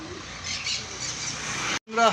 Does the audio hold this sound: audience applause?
no